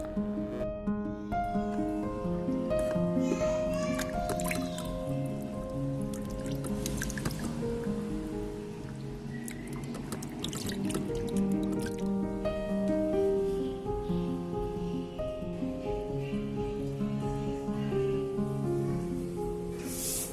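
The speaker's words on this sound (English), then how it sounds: "Wash the prawns well." Prawns are washed in water, with steady dripping, splashing and squishing as the shellfish are rinsed by hand, sounding close up and continuous under soft background music.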